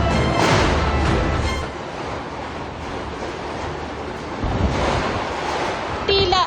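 Strong downburst wind during a severe thunderstorm roars in heavy, continuous gusts, a broad rushing noise that swells and eases with a metal roll-up door rattling underneath.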